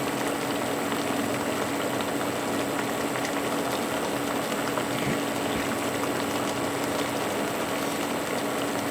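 Pork belly boiling in a pot of water, a steady, vigorous bubbling with large bubbles that runs continuously, close and fairly loud, with no talk.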